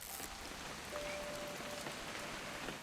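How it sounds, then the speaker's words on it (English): Steady rain in a video game falls as a dense, even hiss, with faint drips and patter across the whole stretch and no voices. "It's gonna rain the whole weekend,"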